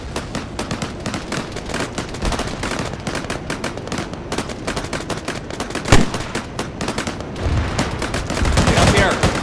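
Dense, sustained gunfire during a tunnel raid and convoy ambush, rapid automatic bursts and overlapping shots crackling close and loud without pause, with a heavier boom partway through and voices shouting beneath.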